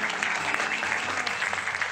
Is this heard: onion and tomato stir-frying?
no